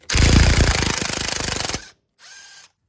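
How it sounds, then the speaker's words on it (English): A big impact wrench hammers at an axle bolt during wheel bearing and hub work, one long loud rattling burst followed by a short second burst, with no voices. "if you guys have one of these big impact drills, then I recommend using that"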